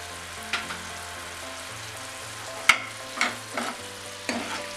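Grape chutney with sugar and raisins is stirred in a pan, with a soft sizzle running underneath and several distinct scraping strokes of the spoon standing out against the quiet background.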